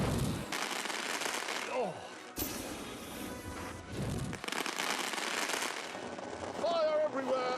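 Fireworks bursting in The Grand Tour Game on PS4 Pro, a string of loud crackling bangs and crashes with whistling streaks, mixed with in-game car noise while someone talks and exclaims over them.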